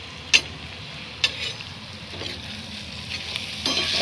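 Green masala paste, turmeric and onion sautéing in hot oil for a vagoti vegetable dish, with a steady soft sizzle and a few sharp scrapes and clinks of a stirring spoon against the pan.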